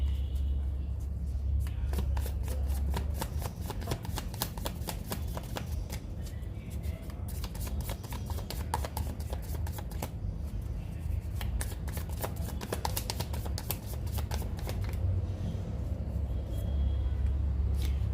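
Tarot cards shuffled by hand in repeated crisp riffles and flutters, close and fairly loud, with a low background rumble and no talking.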